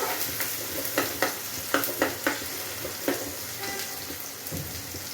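Tomato and onion cook down in a pan for chicken rassa, a continuous close sizzle broken by repeated spoon scrapes and taps as the mixture is stirred, with no voice.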